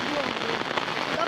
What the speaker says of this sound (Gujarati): જો વરસાદ ચાલુ જ છે ને